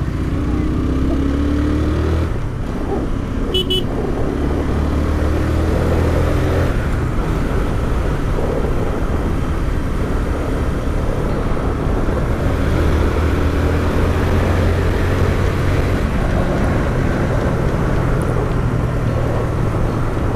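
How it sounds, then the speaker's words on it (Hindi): A Honda CBR 150R motorcycle engine while riding on the road, a continuous loud drone with shifting low tones under heavy wind rush from a helmet-mounted mic, steady throughout with no talking. "मैं अगर शांत हो जाऊँ तो शायद इंजन की आवाज़ सुनाई दे"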